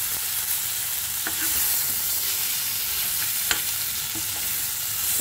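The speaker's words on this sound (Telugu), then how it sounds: "చూద్దాము ఇటు కూడా వేగిపోయినవి బీరకాయలు." Ridge gourds sizzling steadily in oil in a pan for a Telugu-style stuffed curry, with a few sharp scraping clicks from stirring breaking through the continuous frying hiss.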